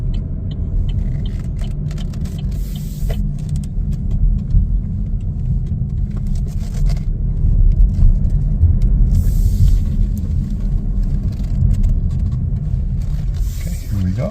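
Inside a 2024 Chevrolet Trailblazer AWD LT on the move, a steady low road and engine rumble fills the cabin. It swells slightly now and then with faint higher noise.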